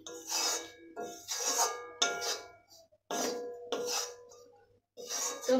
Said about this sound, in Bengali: ভালোভাবে এইভাবে নেড়ে চেড়ে নেব।